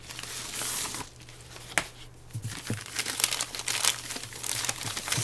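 Wrapping paper around a parcel of manga volumes crinkles and crackles as it is torn open, loud close rustles in bursts with short sharp tears and brief quieter gaps between handling.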